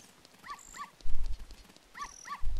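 White dog in the video game The Legend of Zelda: Ocarina of Time giving two pairs of short, high yips, with soft low thumps between them and no talking.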